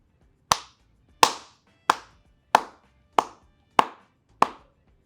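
Seven sharp hand claps from a single person, spaced evenly about two-thirds of a second apart, each crisp and close with a quick decay, alone with no talk.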